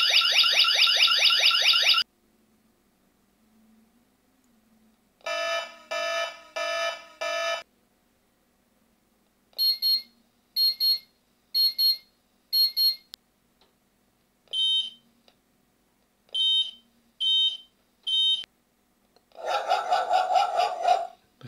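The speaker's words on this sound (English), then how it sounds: "So 7 to 10, you have different alarms." A Tuya Zigbee portable wireless siren runs through several alarm tones: a warbling wail, a run of rapid pulsed bursts, a sequence of sharp evenly spaced beeps, then a harsh buzzing blare, with short silences between patterns.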